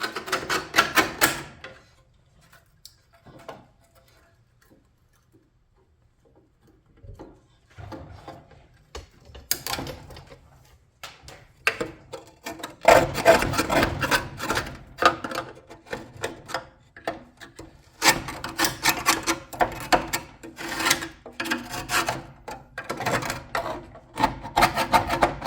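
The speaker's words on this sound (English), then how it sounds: "I'm gonna take this flathead and I'm gonna chip off" A flathead screwdriver scrapes and chips rust off bicycle parts in rapid, gritty scratching bursts, starting with a brief pass, then a quiet gap, then denser close-up scraping that runs steadily to the end.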